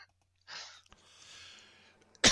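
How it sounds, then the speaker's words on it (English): A few isolated coughs and throat-clearing bursts from smoking, with quiet gaps between them, ending in one sharp, loud cough. "there's a lot of coughing and smoking going on"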